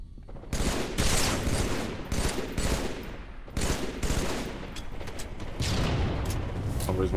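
Video game gunfire crackles in dense, loud bursts of shots that repeat in several volleys, separated by brief gaps.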